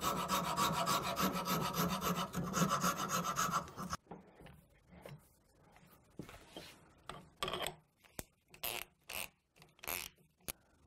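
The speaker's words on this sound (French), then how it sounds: "on va dégrossir le plus possible au rabot, à la râpe ou tout ce que vous avez sous la main" A hand rasp roughs down a piece of wood while making a blowpipe, first as steady continuous rasping for several seconds, then as a series of separate, sharper strokes with short pauses between them.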